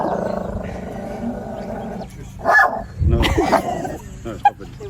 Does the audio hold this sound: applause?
no